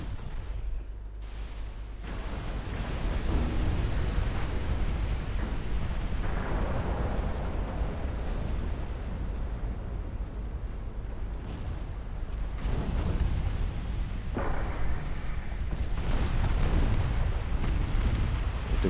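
Heavy explosions and booming impacts roll through a naval battle game as a torpedo strikes a ship, a dense continuous barrage of blasts and rumble lasting throughout, loud and close.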